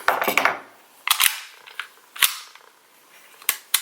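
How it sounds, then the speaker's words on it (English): A Sig Sauer P226 pistol custom built in 22 TCM has its slide racked to check it is clear, giving a few sharp metallic clacks and clicks close up with gaps between them. "Double check that the gun is clear."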